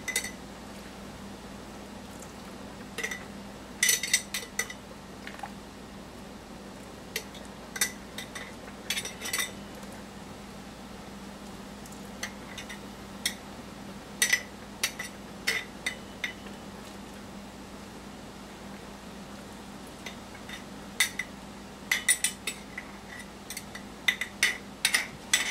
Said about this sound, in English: I'm going to go ahead and pack the cucumbers and onion mixture in the quart jars.